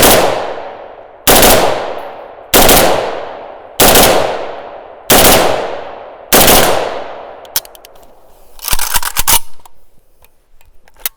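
A Galil ACE rifle fires Winchester 55 grain M193 rounds outdoors in six loud, evenly spaced reports, each ringing out with a long echoing tail, followed by fainter metallic handling clatter.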